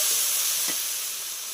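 Water poured onto spice masala frying in a pan, giving a steady close hiss and sizzle that eases slightly as it settles, with no talk.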